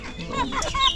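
Native chickens cluck and cackle in a farmyard, including a hen close to laying, with a steady run of short clucks and higher squawks close by, fairly loud and without talk.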